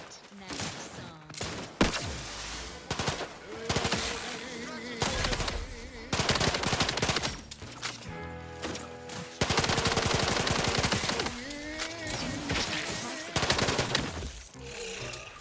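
Rapid pistol gunfire in The Outer Worlds video game rings out in repeated bursts over about fifteen seconds, loud and sharp, mixed with in-game voices and music.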